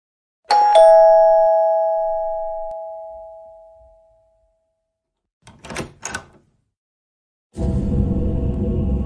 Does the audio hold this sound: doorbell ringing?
yes